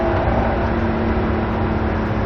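A race car engine at Barber Motorsports Park climbs under throttle near the top of a hill, a loud, close, continuous drone from the cockpit with no talk.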